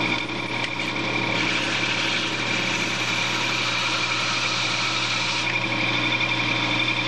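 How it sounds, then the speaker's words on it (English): A belt sander dressing a workpiece runs with a continuous, loud, high whirring drone, steady throughout with a slight shift in tone partway as the piece is worked. "what I'm going to try to do is get this dressed off on a belt sander."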